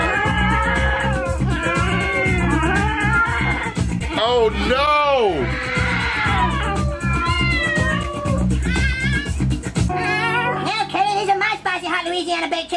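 Cartoon cat from South Park meowing and caterwauling over and over in a loud, strained voice, mixed with people talking and exclaiming around it.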